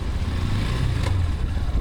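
Honda CB200X motorcycle engine running in third gear while riding, a steady low drone with wind noise, brief and close.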